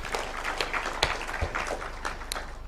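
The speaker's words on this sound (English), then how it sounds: "Better applause for the Speaker, please." At a Senate mid-term assessment and planning retreat, an audience in a plenary hall gives a fairly faint, scattered round of applause for the Speaker, with sharp individual claps standing out.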